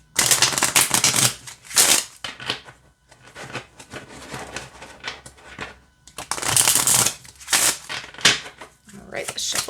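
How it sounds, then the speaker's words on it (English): An oracle card deck is riffle-shuffled up close, with bursts of fluttering, crisp card noise separated by short pauses and a voice talking between shuffles. "All right, let's shuffle it this way."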